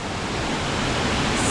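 Loud, constant roar of a 180-metre waterfall in Garuva, Santa Catarina, Brazil. Dense, even white-noise rush with no pauses or voices.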